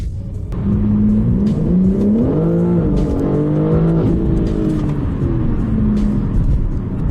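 A BMW M4 G82 with a Stage 2 tune accelerates hard from inside, its engine revving loudly and climbing in pitch through a gear shift and continuing to pull, heard close and alone.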